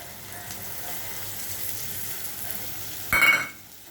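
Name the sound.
ginger, cumin, coriander, turmeric and chili paste frying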